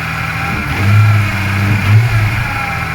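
A Toyota Supra mk3 engine idles high and rich in warm-up enrichment just after its first start, a close steady rumble with a constant whine from the power steering pump and slight surging.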